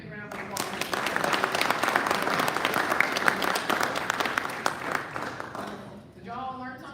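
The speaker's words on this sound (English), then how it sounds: "Let's give everybody a big round of applause." Audience at a Rotary club meeting breaks into sustained applause, dense clapping from a room full of people that swells and then fades out, with a voice speaking briefly as it dies down.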